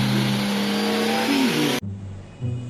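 A remote control toy Lamborghini car gives a short electronic engine rev that climbs and dips in pitch, then cuts off abruptly into a quieter hum with a brief final rise.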